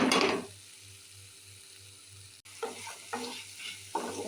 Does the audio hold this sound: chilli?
yes